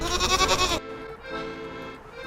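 A goat met at a gravel pit gives a single loud, strained bleat lasting under a second, followed by quieter outdoor background with faint rumbling.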